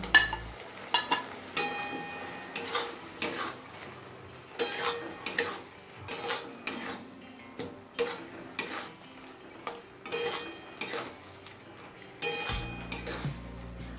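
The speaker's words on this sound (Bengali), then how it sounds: "আমসত্বটা দিয়ে সব কিছুর সাথে মিশিয়ে নিয়েছি" Mango leather is stirred into chutney in a pan: repeated spatula scrapes and clanks against metal in an uneven rhythm, with a faint sizzle underneath, close and fairly quiet.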